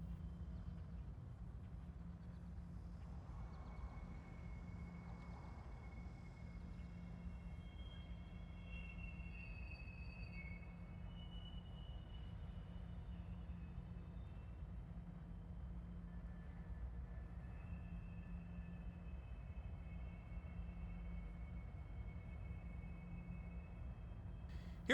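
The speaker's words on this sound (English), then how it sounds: "We also see a CSX intermodal train heading east" A CSX intermodal freight train heading east rolls past in a rail yard with a low steady rumble, and thin high wheel squeals come and go faintly in the distance.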